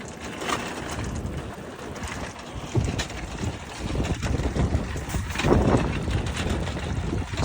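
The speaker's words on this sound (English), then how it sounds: "It's very windy." Strong wind buffets the microphone outdoors, a continuous rough rumble swelling and easing in gusts throughout.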